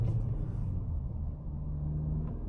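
An Integra fitted with a billet rear motor mount accelerates, its engine a steady, moderately loud low drone that holds evenly throughout, with no voices.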